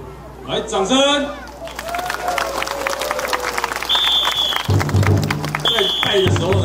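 A crowd at a dragon dance performance during the 2023 Daxi festival opening night claps in a dense burst of applause, with an amplified voice speaking over it.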